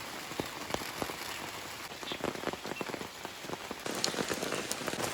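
Heavy rain drums on a tent and its leaky rain fly in a forest campsite, a dense, continuous patter of drops that grows slightly heavier toward the end, with no voices.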